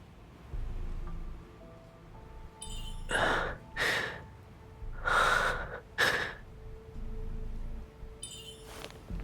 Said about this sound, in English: His breathing is steady.